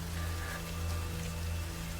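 Steady rain falls on a surface in a dense, continuous patter with a low hum beneath it, playing as background audio for a subliminal track, unbroken and even in level.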